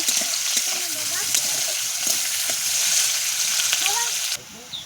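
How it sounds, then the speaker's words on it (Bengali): Onions frying in oil in a wok, a steady loud hiss and crackle holding on for several seconds before dropping away near the end, with some light clinks over it. "পেঁয়াজটাকে সুন্দর করে লাল লাল করে ভেজে নেব।"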